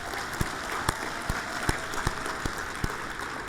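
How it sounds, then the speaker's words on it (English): Applause from a conference audience after a U.S. Deputy Treasury Secretary's remarks, a steady wash of many hands clapping with a few sharper claps standing out, moderately distant and alone without talk. "Would you join me in giving him a round of applause?"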